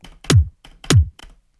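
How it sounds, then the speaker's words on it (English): Fat Riddim kick drum sample, a deep punchy thump struck twice with short clicky transients and quieter hits between, loud and dry with no voices. "nice fat Riddim kick"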